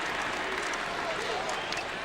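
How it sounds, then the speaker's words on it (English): Basketball arena crowd at a Celtics versus Mavericks game cheering loudly after a foul, a dense, sustained roar of voices and scattered claps filling the space without a break. "Ricky in traffic gets fouled. And the crowd goes wild."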